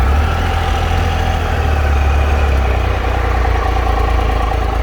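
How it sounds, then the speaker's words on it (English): A 2015 Triumph Tiger Explorer XC motorcycle with 25,000 miles idles nearby in a steady, smooth, loud engine drone with a strong low rumble and no interruptions. "Let you hear this bike running uninterrupted for just a few moments here."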